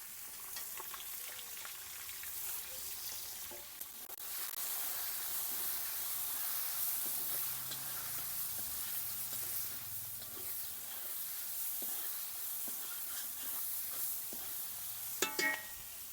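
Onions frying in a pan with whole garam masala and cumin, a strong continuous hiss and crackle that thickens after the first few seconds, close by, ending with a couple of utensil knocks.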